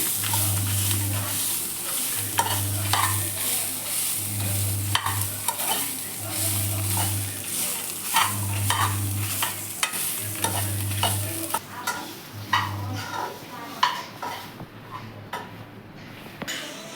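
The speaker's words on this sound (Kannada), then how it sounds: "ಇದನ್ನು ಈಗ ಎಣ್ಣೆಲಿ ಫ್ರೈ ಮಾಡ್ಕೊತಾ ಇದ್ದೀನಿ" Grated coconut sizzles in hot oil while a spoon stirs and scrapes the pan repeatedly, close and steady.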